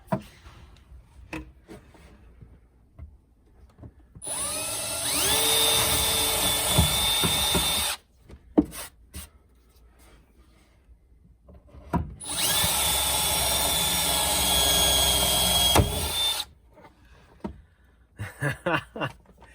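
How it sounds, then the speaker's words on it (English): A power drill whines in two long bursts of about four seconds each, separated by quiet clicks and handling noises. "Next step, double checking the measurements and drilling some holes."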